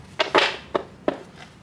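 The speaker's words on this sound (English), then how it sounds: "Let me shuffle a little bit more." Soft papery shuffling of tarot cards, a few quick riffles and slaps spaced irregularly, close and fairly quiet with no talk.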